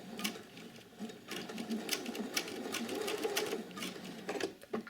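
A sewing machine runs steadily, stitching through fabric and seam allowance while sewing a single welt pocket on a coat, its rapid mechanical whirr continuous and close for several seconds.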